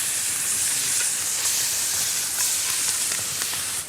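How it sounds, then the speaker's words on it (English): Trout searing on a hot shovel, a loud, continuous close-up hiss and sizzle holding steady throughout, with faint crackles popping through it. "Next, trout, cooked on a shovel. Look at that, instant sear."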